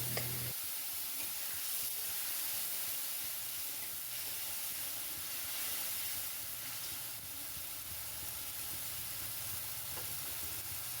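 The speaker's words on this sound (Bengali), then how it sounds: "ভাজার পর আমরা এতে দিয়ে দেব টমেটো বাটা আর ওর সাথে একটু জল দিয়ে মশলাটাকে খুব ভালোভাবে আমরা কষে নেব।" Spices with tomato paste and a splash of water bubble and hiss steadily in a pan, a faint, even sizzling with light steam.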